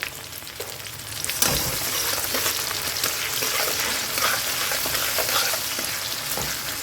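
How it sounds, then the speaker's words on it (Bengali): Chopped onion with a pinch of salt and sugar fries in oil in a pan for egg curry, giving a continuous crackling sizzle with bursts of stirring, close and alone without talk. "পেঁয়াজটাকে একটু ব্রাউন হওয়া পর্যন্ত ভেজে নিতে হবে আমাদের"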